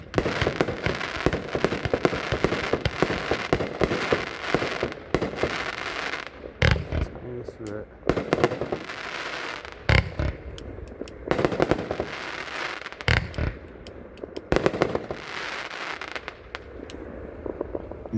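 A 24-shot Brain Rot firework cake fires a rapid, continuous barrage of pops and crackling bursts, loud and sustained, with a few heavier booms standing out near the end.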